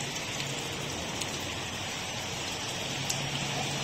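Steady, dense patter of rain falling on a koi pond, a continuous hiss with scattered drops and no voices.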